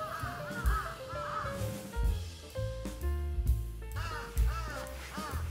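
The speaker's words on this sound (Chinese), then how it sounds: "那个乌鸦声最密集的公园" Crows caw in a hilltop park in Tokyo. Several harsh calls repeat at moderate distance, mixed with other tonal background sounds, and nobody speaks.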